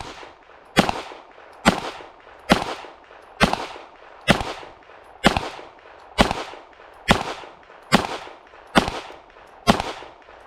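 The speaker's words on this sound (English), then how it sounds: "we're just going to shoot a 12-shot group at 25 yards" Twelve handgun shots with Remington UMC ammunition fired at a 25-yard target, sharp loud cracks evenly spaced about a second apart, each with a short decaying tail.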